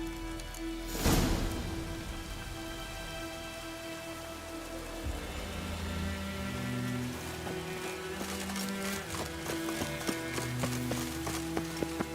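Horse hooves trot in The Witcher 3 video game, a steady rhythmic clip-clop building in the second half over a soft rain-like background hiss and low music tones, with no talking.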